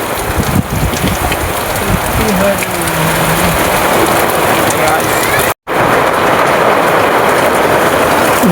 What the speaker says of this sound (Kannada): ಈಗ ಫುಲ್ ಮಳೆ ಬರತ್ತಿದೆ ನೋಡಿ ಗಾಯ್ಸ್